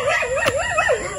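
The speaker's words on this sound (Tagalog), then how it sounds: "Si Job, banong-banong sa loob yung aso" A dog whines and yips in short rising and falling cries from inside a house on a farm, close and fairly loud, with no talking.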